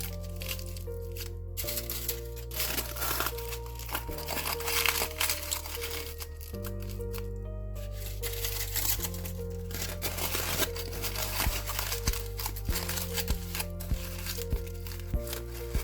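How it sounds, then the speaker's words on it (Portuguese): Paper is crumpled and squeezed by hand while shaping a papier-mâché ponytail for a bust, giving close, irregular crinkling and crunching under a steady background of music. "Amassa aqui bem para fazer a voltinha."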